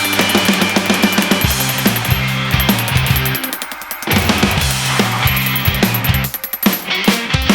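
Hammer blows on hot steel while forging the clip point of a Ka-Bar style knife blade, a loud ringing rhythm of strikes in quick bursts with brief pauses between runs.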